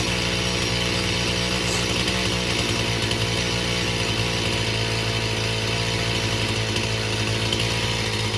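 A chainsaw engine runs continuously at a steady, loud idle while its carburetor is being tuned, a dense buzzing drone close by with no speech over it.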